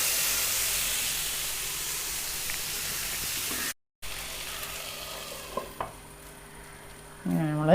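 Jackfruit mixture cooking in a pan over a medium flame gives a steady sizzling hiss with a few soft stirring scrapes and clinks, then a brief pot clatter at the end.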